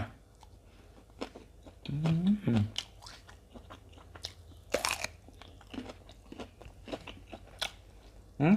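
Crunchy fermented pork skin sausage eaten with sticky rice and fresh chillies, close-up bites and chewing crunches in irregular bursts, with a brief voice in the middle.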